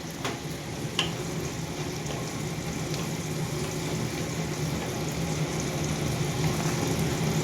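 Boiled young jackfruit, cooked beforehand with salt and turmeric, frying in a pan: a steady, moderate sizzle and hiss that continues evenly throughout, with a couple of faint clicks near the start and no voices.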